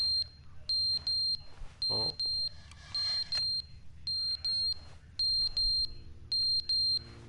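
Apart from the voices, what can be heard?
fire alarm beeping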